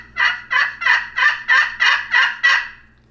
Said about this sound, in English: to get a yelp, we're just going to make circles basically on the call